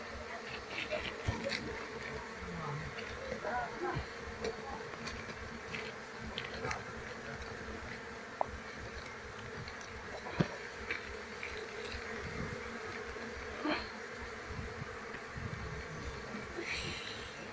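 A wild Apis cerana honeybee colony buzzes in a steady, dense drone, with single bees flying close by at times and no talk.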